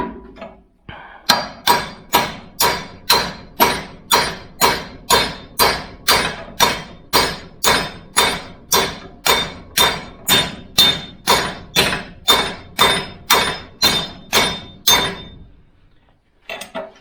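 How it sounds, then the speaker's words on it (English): A hammer pounds on a car's rear axle during a bearing change, about two dozen evenly spaced, ringing metallic blows in a steady rhythm, loud and close, then stopping. "I've got a better hammer than that."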